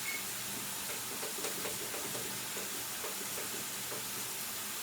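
Mushrooms sweat in a hot pan during home dinner cooking, giving a soft, continuous sizzle and hiss with faint crackles, quiet and steady throughout, with no talking.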